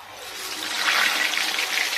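Water running steadily in a home kitchen during festival cooking, a close, continuous splashing stream that swells slightly midway and carries on alone without talk.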